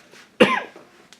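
A single loud, harsh cough from someone recovering from a cold, sharp at onset and trailing off over about half a second, with faint throat noises around it and no speech.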